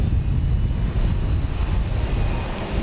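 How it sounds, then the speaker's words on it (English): Airbus A321neo airliner on the runway ahead of takeoff at Houston Intercontinental, a steady loud low engine roar filling the whole stretch with no breaks or voices. "an Airbus A321neo, which is about to take off"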